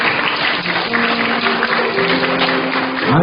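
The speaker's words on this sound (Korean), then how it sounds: "드리고 박수 한번." A Korean church congregation applauds during a Sunday worship service, with continuous muffled clapping and faint sustained tones underneath.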